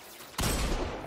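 A single sharp, booming sniper rifle shot from Destiny 2 cracks suddenly after a quiet moment and decays with a rumbling tail.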